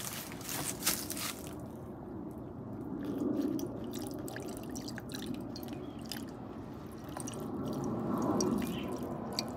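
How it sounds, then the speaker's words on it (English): Hydrochloric acid is added to gold-plated pins in aqua regia, giving quiet fizzing, crackling and dripping sounds close by, soft and continuous with gentle swells. "we're gonna add some hydrochloric acid here"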